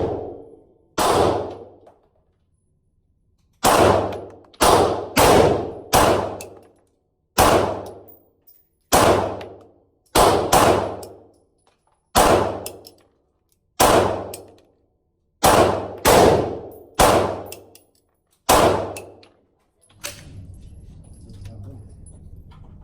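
A Stoeger STR9 pistol fired at steel targets outdoors, loud sharp shots singly and in quick pairs, each followed by a ringing metallic clang that decays, about fifteen shots across the stretch, no talking.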